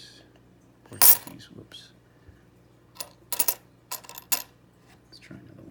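Old foreign coins, Portuguese and 1962 Canadian among them, clink close up while being sorted by hand, in scattered sharp metallic taps and a few quick clusters over near-silence, with a short spoken exclamation.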